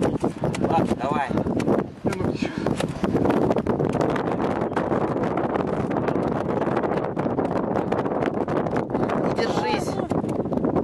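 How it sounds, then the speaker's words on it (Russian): Strong outdoor wind buffets the microphone with continuous rough gusts and rumble, loud throughout, with a voice heard faintly beneath. "Тут всегда дует."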